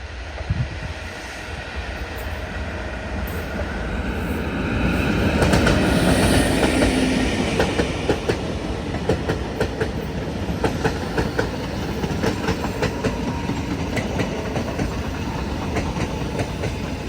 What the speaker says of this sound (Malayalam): മംഗലാപുരം തിരുവനന്തപുരം എക്സ്പ്രസ് ഇതാ കടന്നു വരികയാണ്